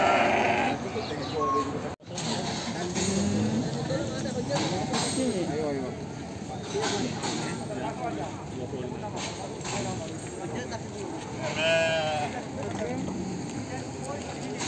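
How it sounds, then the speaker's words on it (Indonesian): Sheep of many different breeds bleat in a pen, several wavering calls rising and falling over a busy background of people talking and shuffling hooves. "Berbagai macam jenis domba rupanya sini."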